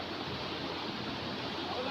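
A strong current of water rushes through an open sluice gate clogged with water hyacinth, a steady roaring wash of noise that continues without letup.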